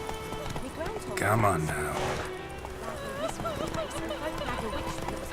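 Geralt's horse Roach gallops in The Witcher 3, its rhythmic hoofbeats running steadily beneath a voice speaking over them, with a brief louder burst of game sound partway through.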